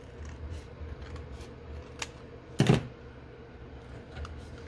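A single short scissor cut through paper or card while finishing a handmade traveler's notebook with mushroom-themed pages, a brief close snip standing out from a quiet room hum with faint small clicks before and after.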